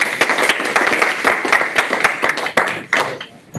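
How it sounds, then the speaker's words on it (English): A small meetup audience at an evening developer gathering claps in a brief, scattered round of applause, with sharp individual claps close by that thin out toward the end. "Right, a round of applause."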